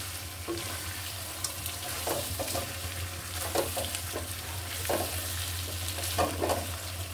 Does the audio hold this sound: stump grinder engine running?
no